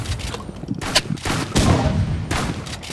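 Shotgun blasts in the Roblox game Rivals, a quick volley of loud, sharp gunfire bursts in close succession over about three seconds with faint background noise.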